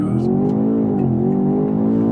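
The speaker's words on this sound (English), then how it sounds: "pin the throttle, build up the revs, launch control is active, let it go" A 2025 BMW X6 M Competition's twin-turbo V8 roars at high revs during a launch-control start, pitch climbing steadily as it accelerates hard, loud and close with no talking.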